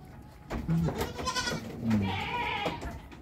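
Goats bleating on a goat farm, several short wavering calls from different animals close by, overlapping and fairly loud against a busy farmyard background.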